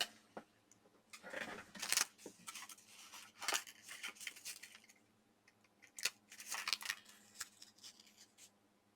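Scissors snip through paper being trimmed for a handmade paper bow, a few quiet crisp cuts and rustles close by in a hushed room, coming in short bursts with pauses between.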